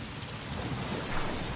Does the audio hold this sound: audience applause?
no